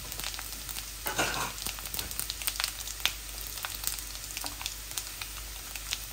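Whole spices including bay leaf, cinnamon, cardamom, cumin and fenugreek crackle in hot oil for chicken bhuna with spinach, a steady close sizzle with several sharp spattering pops, no talk.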